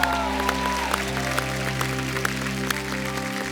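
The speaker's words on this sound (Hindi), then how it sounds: "जोरदार तालियों से स्वागत कीजिए" An audience on a comedy talk show applauds to welcome a singer, steady clapping running beneath sustained band music tones that hold throughout.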